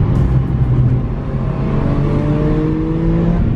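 A new Lamborghini Urus revs hard through a flat corner, its engine note rising and holding in a loud, steady droning pull heard from inside the cabin, with no voices over it.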